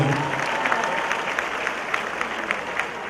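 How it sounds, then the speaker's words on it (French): Audience clapping at a French-language comedy show, dense continuous applause from a sizable crowd filling the whole stretch at an even level. "on applaudit très fort pour moi"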